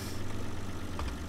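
A tractor engine in Farming Simulator 2013 idles with a steady, low rumble that runs unbroken throughout, fairly close and even in loudness, with no talking.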